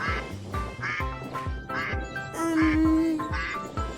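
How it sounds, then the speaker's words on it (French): Ducks quack repeatedly in quick, overlapping bursts, loud and close, with a steady rhythmic musical backing underneath. "Oh! Voici les canards."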